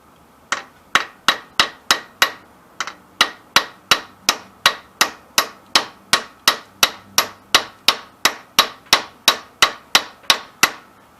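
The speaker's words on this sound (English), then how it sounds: "It probably looks a little scary with the hammer I'm using, but I'm just giving it little taps" A hammer taps an impact socket in steady, evenly spaced metallic strikes, about thirty sharp clanks close up with a short pause near the start, each ringing briefly before the next.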